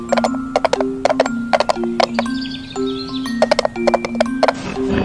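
Horse sounds: rhythmic clip-clop of hooves in quick clustered groups, mixed with ringing, bell-like tones, fairly loud and steady throughout.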